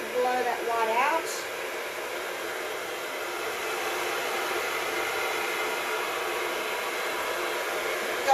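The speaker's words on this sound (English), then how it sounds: "I'm going to use my hairdryer with my little medicine cups, upside down medicine cups with the bottom cut out" A hair dryer blows down through a cut-off upside-down medicine cup onto wet acrylic pour paint to make lacing, giving a steady, loud whooshing roar throughout, with a brief voice near the start.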